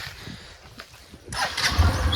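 A motorcycle engine cranks and catches partway through, then runs with a rough, close rumble.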